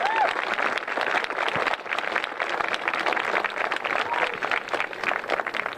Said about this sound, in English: can I have a round of applause please for Tora Strand